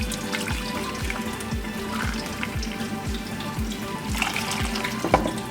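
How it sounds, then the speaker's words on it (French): Hot water pouring from a tap or jug into a cooking pot while preparing couscous, a steady close liquid rush with a faint low rhythmic thumping underneath and no talking. "Je rajoute 3 verres d'eau."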